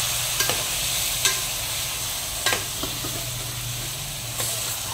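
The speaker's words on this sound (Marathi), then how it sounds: "बाजूला हां हे बघा कशी फोडणी बसले बघा" Chicken pieces frying in a sizzling spiced tempering: steady close hiss of hot oil throughout, broken by several sharp spatters and stirring clicks, with no talk.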